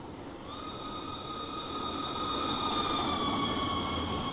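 A Class 40 diesel locomotive, number 40145, rumbles on the London–Bedford line in Train Simulator 2016, a steady engine drone with a sustained whining tone that builds gradually in loudness with no talk over it.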